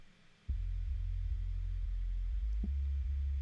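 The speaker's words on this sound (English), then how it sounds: "This is her sub bass." A sub bass track from a rock mix enters after a brief quiet lead-in as a loud, deep, steady low rumble, with one faint click partway through and no voices.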